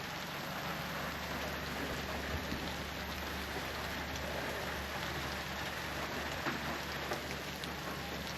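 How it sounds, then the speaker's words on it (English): Heavy rain pours down steadily during a camping trip by boat along the Great Sandy Strait near Fraser Island, a dense, even hiss of drops with no voices. "It's starting to rain heavier."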